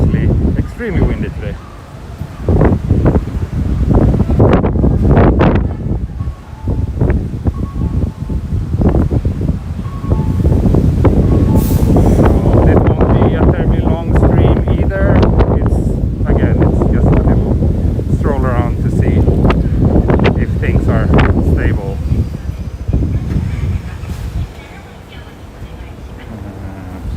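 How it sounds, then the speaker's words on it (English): Strong gusty wind buffets the microphone in loud, rumbling bursts throughout, with faint background movement, on a morning street walk in Futako-Tamagawa, Tokyo. "I hope you can hear me over the wind."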